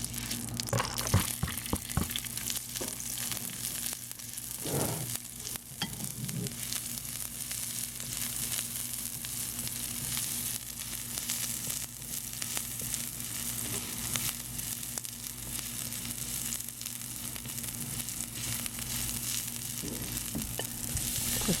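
Onion sizzling in hot oil in a pan for a shrimp and scallop stir fry, a steady crackling fry running throughout with occasional stirring scrapes and clatters, close and continuous with no talking.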